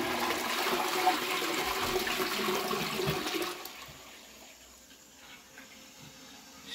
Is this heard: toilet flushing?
yes